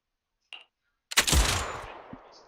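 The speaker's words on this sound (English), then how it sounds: "Just as he about to retort, a crisp gunshot rings out" A crisp gunshot in the Zenless Zone Zero game story rings out loudly after a faint click, its sharp crack trailing into a rumbling echo that fades over a second.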